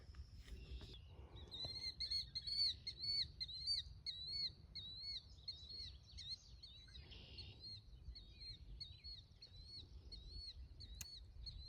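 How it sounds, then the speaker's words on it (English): Marsh ambience with repeated bird calls, likely red-winged blackbirds and killdeer, chirping in a steady series over a low background rumble; bullfrogs are not distinct, and no one speaks. "Hearing killdeer,"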